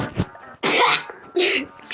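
A single person sneezes up close, a sharp breathy burst followed by a second explosive release, short and loud.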